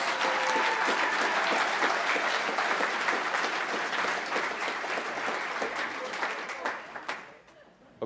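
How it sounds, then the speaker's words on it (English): Banquet audience at a small business awards dinner applauding the nominees, a dense sustained burst of many hands clapping that carries on loudly before tapering off near the end, with some voices mixed in. "One more round of applause for all our nominees."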